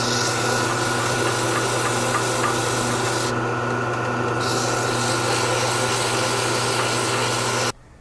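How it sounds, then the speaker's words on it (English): A wooden pen spins while sandpaper rubs against it, giving a steady, loud, unbroken hiss over a motor's hum that cuts off abruptly near the end. "Now we're going to start sanding the pen"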